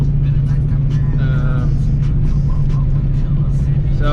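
Ford Mustang Foxbody cruising, with a steady loud low engine rumble and road drone inside the cabin, while someone talks over it.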